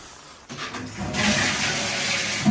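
A newly fitted toilet in a small bathroom with a shower and bidet flushes with a sudden rush of water that builds into a loud, steady hiss of refilling, close by, with no one speaking.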